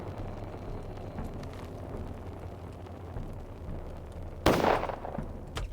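A single gunshot fired at a rat in the game Pathologic, a sharp loud crack near the end standing out over a low droning background.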